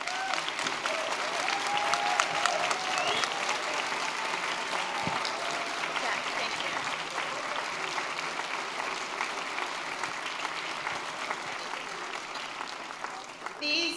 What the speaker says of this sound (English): I would love to ask our students to stand, take a bow, and for us to applaud them.